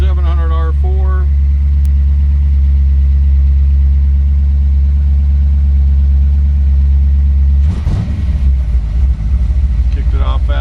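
A 1932 Ford three-window coupe with a 351 V8 and 700R4 transmission runs at a steady, loud fast idle, a constant low drone that drops and shifts as the idle kicks down near the end.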